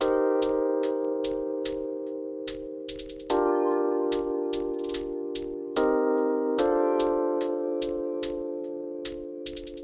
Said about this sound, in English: I added another hi-hat pattern. And this is how that sounds like.